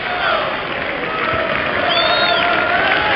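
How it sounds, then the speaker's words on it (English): A Sussex cricket crowd applauds batsmen Ravi Bopara and Delray Rawlins as they walk off toward the pavilion after a Vitality Blast T20 win over Essex, a steady, loud wash of clapping and crowd noise with cheers mixed in. "I'm sure they're going to get a great ovation from this Sussex crowd"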